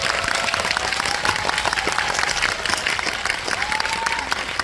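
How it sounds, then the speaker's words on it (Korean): A theater audience at a Korean film screening Q&A applauds the actors with dense, sustained clapping that fills the room, while a faint tone drifts over the crowd. "배우님들께 박수 한번 부탁드릴게요"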